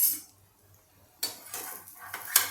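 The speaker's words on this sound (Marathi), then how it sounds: "आता मी उलटवून तुम्हाला दाखवते" A utensil scrapes and clinks against a pan while a cucumber pancake (dhirde) is flipped: a quiet stretch, then several sharp metallic scrapes and taps in quick succession, close and without talk.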